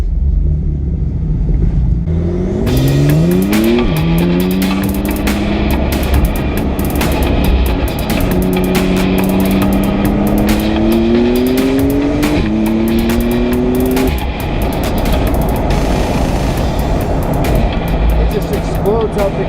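A 2017 Porsche 911 Carrera 4S Cabriolet with all-wheel drive accelerates hard, its engine rising in pitch through several sharp gear changes, loud and close, with a voice speaking over it.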